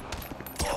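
Gunfire in Grand Theft Auto V, a short burst of rapid shots that swells louder near the end, with a voice shouting faintly beneath it.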